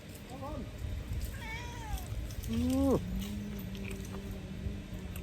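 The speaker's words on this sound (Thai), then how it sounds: "เหมียวเหมียวมาอีกแล้ว" A cat meows several times close by in a rural village setting in northeastern Thailand. Short, rising calls are followed by a louder, drawn-out meow that slides down into a low, steady tone over faint background noise.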